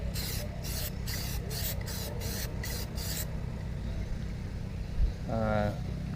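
Aerosol can sprays a light coat of Plasti Dip onto the V6 emblem of a 2016 Toyota Tacoma, a series of short, close hissing bursts over steady low background rumble, followed by a brief tonal squeak.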